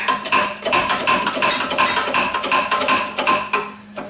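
A lift is cranked back up to raise the engine of a 2010 Harley-Davidson Electra Glide, giving a steady run of close metallic ratcheting clicks and clanks with no talking.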